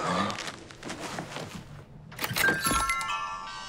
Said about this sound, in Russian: вот этот звук э, колокольчиков на двери